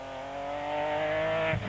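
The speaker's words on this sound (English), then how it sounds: "Really tearing up the Nissan Navara in pursuit of the podium spots" A Nissan Navara rally truck at Baja Spain 2010 screams along under hard throttle, its engine holding a loud, steady high-revving drone for the whole stretch, with a brief dip near the end.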